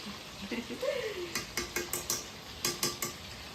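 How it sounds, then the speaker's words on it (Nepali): One kilogram of chicken frying in a pan in a new kitchen, with a quiet sizzle beneath a rhythmic run of spoon-on-pan scrapes and clinks, close by, with a brief voice-like tone early on. "1 केजी चिकनलाई चाहिँ मैले चाहिँ फर्स्ट यहाँनिर फ्राई गर्दैछु"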